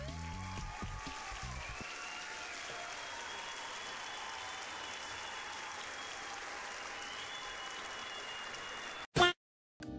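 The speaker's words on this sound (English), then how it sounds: "Dude, they're cheering for me, dude." A video game crowd cheers and claps in a dense, continuous wash of applause, with a sharp game sound effect near the end, then a brief drop to silence.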